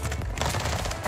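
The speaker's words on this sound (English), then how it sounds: "Nail gun!" Nail gun firing in Call of Duty Warzone, a rapid, dense burst of sharp shots rattling continuously for about a second, loud and close.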